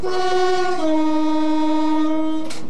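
A train horn blasts loudly and close with one sustained chord-like tone that steps down slightly partway through, then cuts off near the end into a brief burst of noise.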